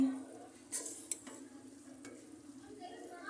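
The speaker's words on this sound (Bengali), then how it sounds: "চিংড়ি মাছগুলো এটার সাথে ডাল রান্না করতেছি" Shrimp cooking with lentils in a pan gives a quiet, steady sizzle under faint stirring scrapes, with a couple of brief clinks near the start.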